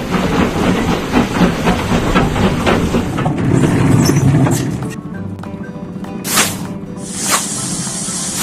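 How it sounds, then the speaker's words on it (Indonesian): A cartoon train in a children's heavy-equipment construction puzzle game chugs and hisses loudly, then settles into a lower rumble punctuated by a couple of sharp steam-like bursts. "Ayo kirim kereta ke depo."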